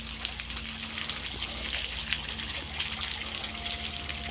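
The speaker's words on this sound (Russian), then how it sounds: "Там вода стекает чуть-чуть" Water trickling down over granite slabs at an outdoor site in Roseburg in the Harz, Germany, a steady close splashing rush with a faint hum beneath and no voices.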